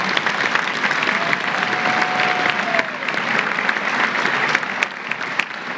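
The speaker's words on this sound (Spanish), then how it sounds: "un aplauso para todos los entrenadores" A crowd applauds the coaches at a national sports awards ceremony honoring Pan American Games athletes; sustained, loud, even clapping from many hands fills the hall without a break.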